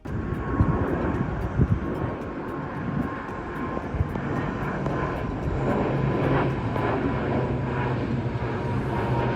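A fixed-wing airplane passes overhead in Northern Virginia, a steady broad engine rumble that stays fairly loud and continuous throughout, with no voices.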